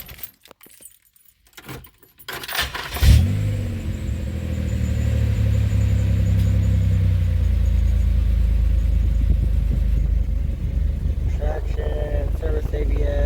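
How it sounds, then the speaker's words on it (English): A 2007 Pontiac Grand Prix engine with a new supercharger gasket, keys jangling in the ignition before it cranks and catches, then settling into a steady, deep idle that runs on close and loud. "So I'm gonna start her up, see how she runs"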